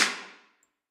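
An early clap sample from a Logic Pro X beat sounds as one bright, sharp clap with a short airy decay, heard alone and fading within half a second.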